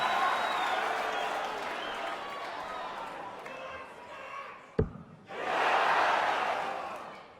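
A full house at the Wolverhampton Civic applauds during a Grand Slam of Darts semi-final, sustained crowd clapping that fades, broken by one sharp thud, then surges back loud.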